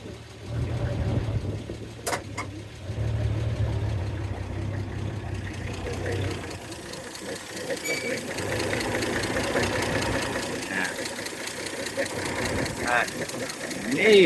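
An all-original 1938 Chevy 38HC pickup with a straight-six engine and three-speed manual starts up and settles into a steady, slightly knocking idle heard up close, with low voices around it.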